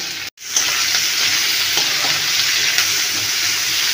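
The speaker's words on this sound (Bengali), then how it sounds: "পেঁয়াজগুলো একটু লাল লাল করে ভেজে নেব।" Onions fry in oil in a pan with a steady, close hiss of sizzling that runs almost unbroken, apart from a brief dropout near the start.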